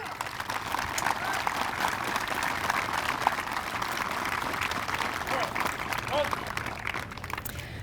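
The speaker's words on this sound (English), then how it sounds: "please, round of applause" An outdoor crowd at a Fourth of July Vietnam veterans memorial closing ceremony in a park claps steadily, a broad, even patter of applause lasting several seconds.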